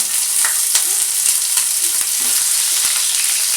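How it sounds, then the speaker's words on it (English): Green chilies frying in hot refined oil, a loud, dense sizzle with crackling pops and occasional stirring clicks, close and continuous with no voices. "So first we are adding the green chilies to the oil."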